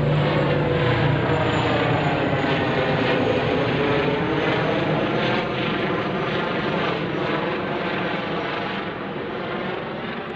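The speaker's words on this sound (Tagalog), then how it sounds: "Yung eroplano na yan." A propeller airplane passes overhead, a loud continuous droning roar that holds steady and slowly fades a little toward the end, with no talking.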